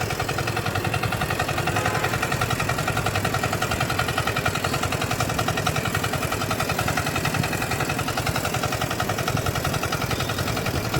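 Tractor engine running continuously in a groundnut field, a steady close mechanical drone with even pulsing throughout and no voices.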